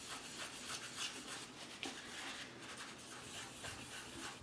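A steady close rubbing on a foil tape sheet coated with alcohol inks, a continuous soft scratchy friction with slight rhythmic pulses and a couple of small scrapes, quiet and alone.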